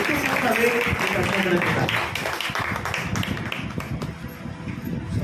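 A church congregation claps loudly and steadily to welcome a pastor, a dense wash of applause with voices speaking over it.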